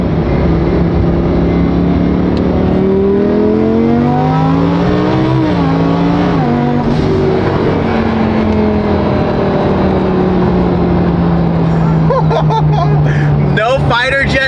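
A twin turbo Lamborghini accelerates hard, its engine roar climbing steadily in pitch through the gears with brief dips at each shift, loud and close from inside the cabin, with voices talking over it.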